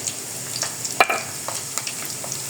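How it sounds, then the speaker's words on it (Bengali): Onions fry in hot oil in a wok, giving off a loud, steady sizzle with a short clatter of stirring near the start. "তেলটা গরম হয়ে আসছে, এখন আমি দিয়ে দিব পেঁয়াজটা।"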